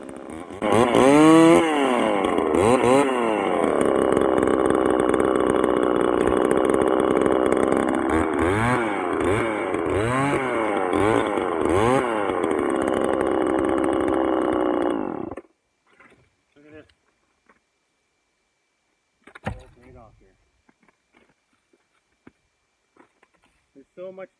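A loud, raspy chainsaw with extra holes drilled in its muffler revs up and down repeatedly for about fifteen seconds, then cuts off, leaving near silence with a few faint knocks.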